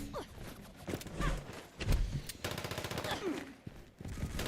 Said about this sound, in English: I'll just shoot it with the syringer